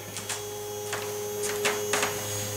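An X-Carve CNC router moving on its axes during calibration, giving a steady electrical hum with a few short, faint whirring pulses of the motors, and no talk.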